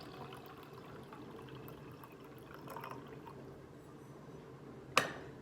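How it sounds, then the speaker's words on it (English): Red cabbage dye liquid is poured into a jar in a soft, steady trickle that stays quiet and continuous, ending in a short sharp clink near the end. "pour just the mixture without the ingredients that you've added to it into a jar"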